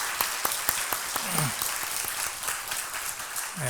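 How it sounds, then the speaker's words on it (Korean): A church congregation applauds to welcome a visiting missionary couple, with a steady wash of clapping from many hands in a large room and faint voices beneath. "박수로 환영하겠습니다"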